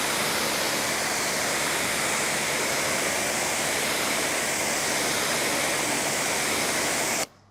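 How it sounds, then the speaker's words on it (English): A pressure washer sprays steadily, rinsing car detailing brushes with a loud, continuous hissing rush of water that holds constant throughout and stops abruptly at the end. "All I do is use my pressure washer and I just rinse them out like this."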